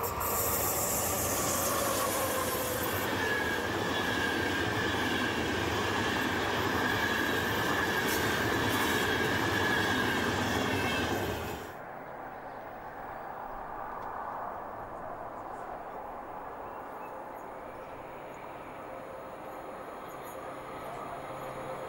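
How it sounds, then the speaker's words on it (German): A Eurocity passenger train passes close by in the Elbe valley between Dresden and Bad Schandau with a loud rushing roar and rattling wheels, then cuts off abruptly, leaving a quieter rumble fading into the distance. "Durchs Elbtal zwischen Dresden und Bad Schandau rollen Eurocity nach Tschechien, Österreich und Ungarn."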